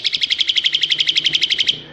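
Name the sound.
Asian pied starling (jalak suren) birds singing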